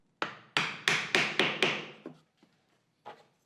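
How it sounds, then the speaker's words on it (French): Sharp taps of a wood offcut knocking on glued wooden joints of a towel rack, six quick strikes in a row followed by a few fainter scattered knocks, close by with no talk. "Avec une chute, on tape sur les assemblages afin qu'ils soient certainement bien planes"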